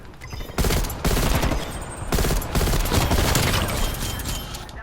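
Rapid gunfire from Call of Duty: Black Ops Cold War multiplayer aimed at practice bots, with loud, dense bursts of shots rolling almost continuously after a brief quiet start.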